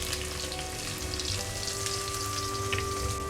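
Chopped medium onion sizzles and fries steadily in a pan for masoor dal, a dense, continuous crackle that stays close and loud with no talking over it.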